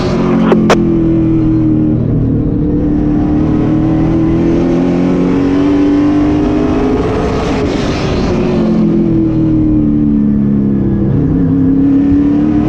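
A super late model race car engine roars at full throttle on an oval track, heard loud and steady from inside the car, its pitch rising and falling through the corners with no talk over it.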